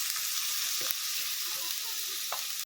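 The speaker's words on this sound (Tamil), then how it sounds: "அதே பேனுக்கே நம்ம அலசி வச்ச 1/4 கப் அரிசியை சேர்த்துக்கிட்டு இதையும் நல்லா ஃப்ரை பண்ணி எடுத்துக்கலாம்" A quarter cup of washed raw rice fries in a pan for a rice health drink, giving a steady, close hiss of sizzling with a few soft scrapes of stirring. No one talks.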